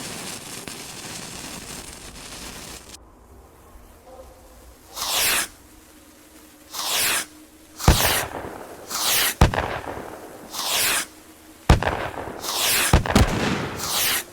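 Fireworks bursting in the VR shooter game H3VR, a string of about seven sharp broadband cracks and fizzing bursts spaced irregularly, loud and close, with a hissy crackle beforehand.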